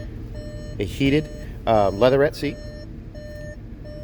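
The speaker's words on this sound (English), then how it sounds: "I'll shut this door here so it'll stop beeping." A 2020 VW Atlas Cross Sport SE with its door open and ignition on repeats its electronic warning chime in regular steady beeps, while someone speaks close by over it inside the cabin.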